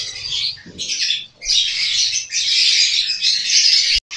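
Rainbow budgerigars squawk and chirp loudly at close range, a dense, continuous chatter of harsh calls broken by brief pauses, with no talking.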